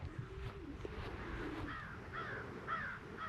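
Several crows caw in a series of harsh calls, moderately distant, over a steady low outdoor rumble; a pigeon-like coo may sound briefly early on.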